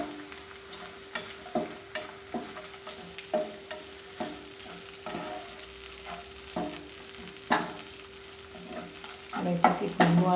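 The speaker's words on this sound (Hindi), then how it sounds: "कम आँच रखी हूँ मैंने और ये लहसुन भूनने लगी। इसमें हरी मिर्च डालेंगे" Garlic and chopped green chillies frying in a pan on low heat, a soft steady sizzle with repeated scrapes and clinks of a stirring spoon, growing busier toward the end.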